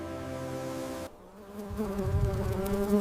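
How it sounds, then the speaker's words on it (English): Bumblebees buzzing up close in a strawberry greenhouse, a steady droning hum that breaks off briefly and returns with a fresh buzz, alone without voices. "We use natural bumblebees for pollination, ensuring perfect fruit shape."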